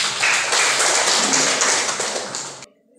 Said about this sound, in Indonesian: Terima kasih untuk Tasya, kita berikan tepuk tangan